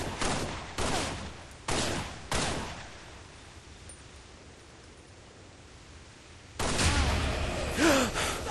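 Six gunshots fired in a sci-fi video game, loud broadband bursts spaced about a second apart, followed by a quiet hissing gap and then a heavier burst of noise and action sounds.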